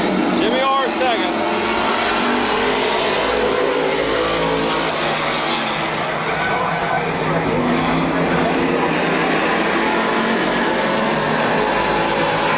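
Race cars roar past at Midvale Speedway, a loud, continuous engine drone that swells and holds throughout, with a race announcer calling positions over the noise.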